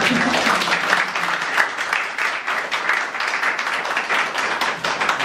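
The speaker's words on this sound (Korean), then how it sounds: "한번 박수를 주세요." Conference audience applauding steadily and densely for about five seconds, a continuous wash of many hands clapping with no break.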